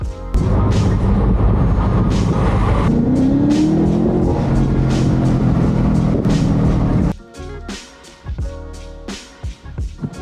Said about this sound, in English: now we're gonna go for a drive and see what's up